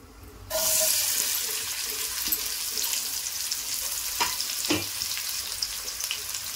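Onions dropped into hot oil for a Telugu home-style dish burst into a loud, steady sizzle after a moment of quiet, then keep crackling evenly, with a couple of sharp stirring clicks near the end.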